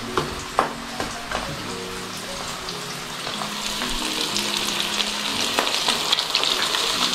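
Chicken legs fry in a pan with a steady, close sizzle that builds and thickens over the seconds, with occasional small pops and crackles.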